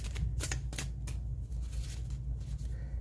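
Tarot cards being shuffled by hand, a run of crisp papery riffles and soft slaps in quick irregular bursts, close up with no talking.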